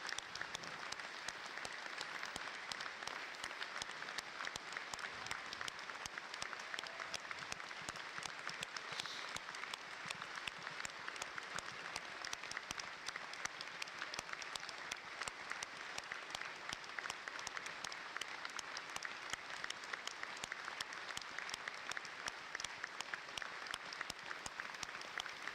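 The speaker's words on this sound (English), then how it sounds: "A minute's applause in respect of the fans we've lost." Sustained applause from a stadium crowd during a minute's tribute at a York Knights versus Toulouse Olympique rugby league match, steady dense clapping heard from a distance, evenly loud throughout with no break.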